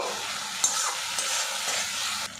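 Grated small tomato being stirred into fried ginger garlic paste in a pan. Continuous sizzling with brief scraping strokes and a couple of soft knocks, with no one talking.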